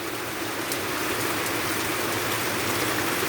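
Heavy rain pours steadily after a windy start, a dense, even hiss that carries on without a break for the whole stretch.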